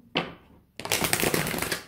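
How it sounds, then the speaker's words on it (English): Tarot cards being shuffled, a quick single riffle followed after a short pause by a longer, louder burst of rapid papery flutters, close and crisp with no talk. "Two more shuffles for Gemini, please."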